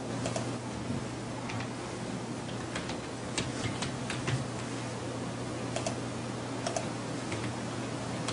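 Fast, steady typing on a computer keyboard at a desk, with close, light key clicks running continuously over a faint low hum. No one speaks.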